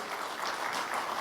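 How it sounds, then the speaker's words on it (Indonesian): Applause rises for a guest at an Indonesian formal speech event, a dense, steady crowd clapping that fills the short moment evenly at moderate distance with no talk over it. "Tepuk tangan juga untuk Bapak Don Bosco"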